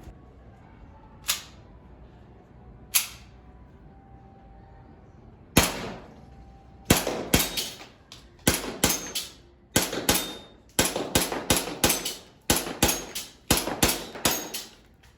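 Shots from an airsoft gun fitted with an Eshooter Flare M tracer unit: a few spaced single sharp cracks, then a fast irregular string of loud close shots, with no talking.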